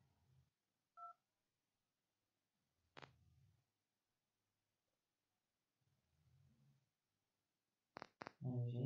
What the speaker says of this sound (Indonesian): coba kita telepon dari handphone saya ke adik saya.